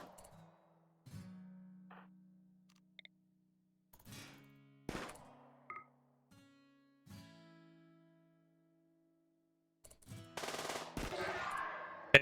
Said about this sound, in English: Let's have you two shoot that one.